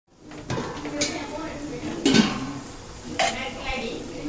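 Pieces of tandoori chicken being turned over in a frying pan, with soft sizzling, scraping and stirring clatter, faint and close, plus a few louder clinks of utensil against pan.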